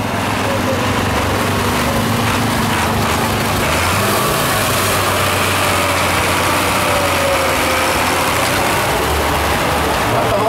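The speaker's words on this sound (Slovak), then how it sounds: "Takže opäť Tony, ten istý traktor Case a opäť malá čierna po druhýkrát!" A Case tractor's engine drones loud and close during a tractor trial competition, a steady low rumble with fluctuating revs throughout, with an announcer's voice faintly mixed in.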